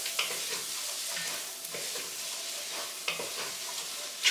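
Garlic sizzling in a bacon base for corn chowder: a hissing, crackling fry, stirred, with a few light utensil taps against the pot and a final clink, no speech.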